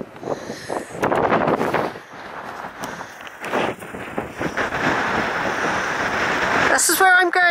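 Gusty wind buffets the microphone on a hillside walk near Draycott Sleights and Cheddar Gorge, a loud continuous roar that rises and falls, with a person talking over it throughout.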